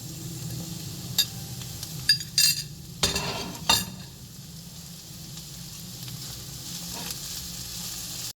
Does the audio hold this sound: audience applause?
no